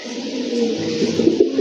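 A male racer pigeon coos nearby in one long rolling call, steady and fairly loud, with slight pulsing toward the end and no voices.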